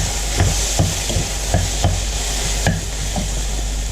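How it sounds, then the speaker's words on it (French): Paneer and potato filling stirred in a pan, a regular series of spatula scrapes and taps, about one every third of a second, over a soft continuous sizzle. "Je mélange."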